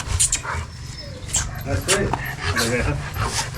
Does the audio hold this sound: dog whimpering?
yes